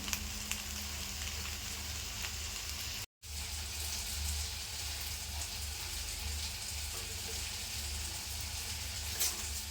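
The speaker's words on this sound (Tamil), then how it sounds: "இது 2 பேர் சாப்பிடக்கூடிய அளவுக்கு நான் இப்போ இதை கிளறுறேன்" Mango rice stirred in a pan gives a faint, steady low rustle and soft scraping, with a brief dropout partway through and no talking.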